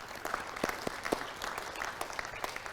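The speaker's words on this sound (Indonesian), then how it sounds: "Tepuk tangan untuk kita semua, Bapak Ibu." An audience at an awards night for climate action claps in a moderate, fairly quiet patter, with individual hand claps standing out against the crowd.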